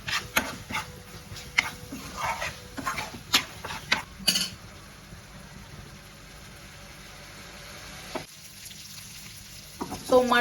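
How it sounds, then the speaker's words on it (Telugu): Mutton frying in a pan for kheema fried rice, a moderate sizzle with intermittent scraping stirs and a few clanks, quieting toward the end before a final stir. "సో మటన్ అయితే వేగింది."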